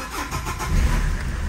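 A Citroën Xantia 2.0 HDi diesel with a faulty fuel pressure regulator cranks and fires up, a loud, close burst of starter churn that settles into a rough engine rumble within about a second and a half.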